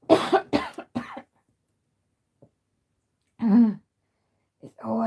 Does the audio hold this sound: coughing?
yes